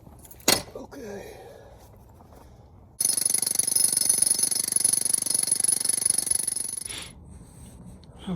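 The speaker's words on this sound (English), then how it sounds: "Thanks to the trusty Makita rock breaker." Makita power hammer breaking up a yard boulder, a close, loud, continuous rapid chatter lasting about four seconds before stopping, preceded by a sharp knock and quieter scraping.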